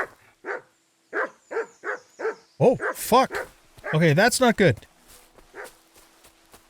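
Several dogs bark in a Kingdom Come: Deliverance 2 game world: a steady run of clipped barks, then a loud, dense burst of overlapping barks and howl-like yelps, with a voice talking and swearing over them before the barking thins out.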